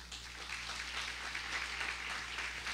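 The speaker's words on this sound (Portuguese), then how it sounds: "Aplauda bem forte ao Senhor Jesus." A church congregation claps for the Lord Jesus, dense continuous applause heard alone at a moderate, even level for a few seconds.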